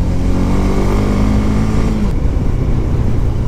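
Trucks pass one after another on a road, producing a loud, close engine roar that shifts in tone partway through as one vehicle gives way to the next.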